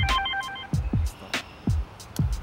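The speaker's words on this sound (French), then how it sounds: "On m'appelle." A telephone rings indoors with an electronic tone and short repeated pulses, fairly close and clear, with no talk over it.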